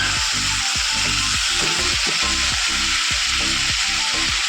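Halved potatoes fry in a pan of oil with a loud, continuous sizzle. Repeated scraping strokes of a spatula come at a steady rhythm.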